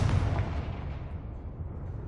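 Confringo fire spell explosion in the video game Hogwarts Legacy, a single loud, deep boom at the start that decays into a rumbling fade, with no talk.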